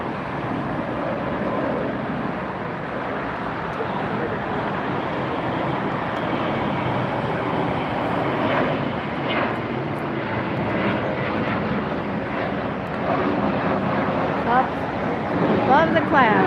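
A Qantas Airbus A380 at LAX: a steady broad roar of jet engines, continuous and moderately loud, with a person talking over it.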